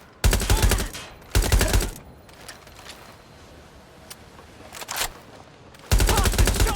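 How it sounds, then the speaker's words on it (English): Bursts of automatic gunfire in the video game Watch Dogs: Legion, three loud volleys with quieter scattered shots and game ambience between them. "They're shooting!"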